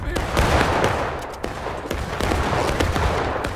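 Rapid musket volleys crack and pop continuously in the online battle game War of Rights at Burnside Bridge, dense overlapping shots near and far forming a loud, unbroken fusillade.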